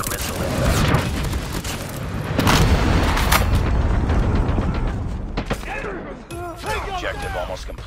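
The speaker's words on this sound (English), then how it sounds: "Friendly predator missile inbound" Call of Duty Mobile combat erupts with booming missile impacts and rapid bursts of gunfire, dense and loud throughout, with in-game voice lines chiming in over the chaos.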